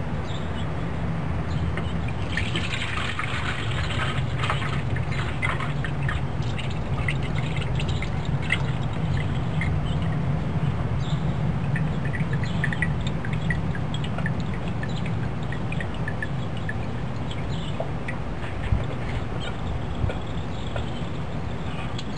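Melted beeswax and damar resin poured carefully through a strainer into a skillet, producing a continuous, close trickling and splashing pour with faint drips throughout.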